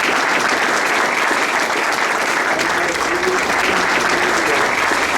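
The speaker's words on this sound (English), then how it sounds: "he was greeted by the sound of applause and a letter of appreciation" Sustained applause from a group greeting a visitor at a Coast Guard training center, a dense, steady wash of clapping that is loud and close and carries on for the whole stretch.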